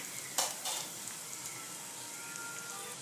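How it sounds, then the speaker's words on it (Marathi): Chopped onion sizzles quietly in a pan as it fries to golden, with a couple of brief stirring scrapes near the start and then a soft, steady hiss. "कांदा परतल्या गेला आहे आता सोनेरी रंगावर"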